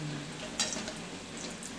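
Batata vada frying in hot oil, a steady hissing sizzle with one brief clink or stir partway through, close and even, no one speaking.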